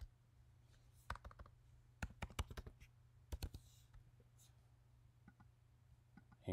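Keys tapped on a computer keyboard while a username is entered at a login screen, coming in a few brief bursts of quiet clicks over a low steady hum, with silent gaps between them.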